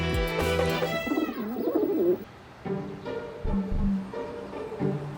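Pigeons coo in soft, low, throaty bursts amid an indoor scene, mixed with a brief tonal swell and other faint background sounds.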